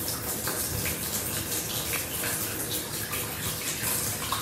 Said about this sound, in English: You can hear that water filling up my bath coming from the tap.